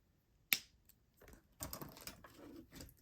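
Flush cutters snip through thin craft wire with one crisp, close click, followed by softer rustling and small handling taps.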